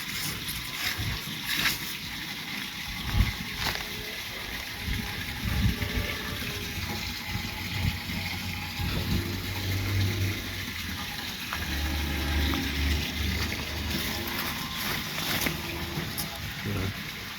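Steady rushing and gurgling of water flowing through a backyard farm irrigation channel in Jamaica, continuous and fairly close, with faint outdoor noise and occasional splashes.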